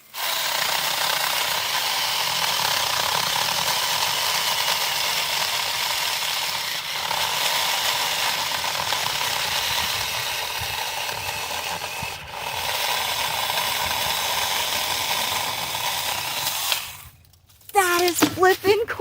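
A Saker battery mini chainsaw whines steadily and loudly for a long stretch, then cuts off near the end, followed by a few brief clattering noises.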